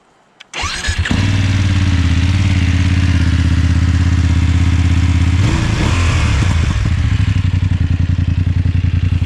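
A 2021 BMW 850 GS Rallye motorcycle engine cranks and catches, then settles into a loud, steady idle with a brief rev midway, close by and with no talking.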